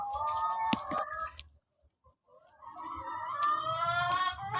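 Laying hens cluck and cackle loudly nearby, a brief lull in the middle, then the clucking resumes with several birds calling together.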